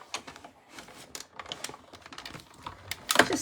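Paper being cut with a trimmer while making a gift card holder, a series of faint, close scraping ticks building to a sharper slicing burst at the end, with no talk.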